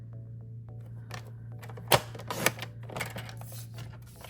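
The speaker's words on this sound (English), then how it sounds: "So we are done cutting with our trimmer." A paper trimmer slices white cardstock with a few sharp, close clicks and a swishing cut, over a steady low electrical hum on a quiet tabletop.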